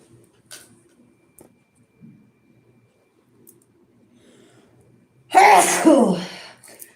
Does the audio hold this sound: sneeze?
yes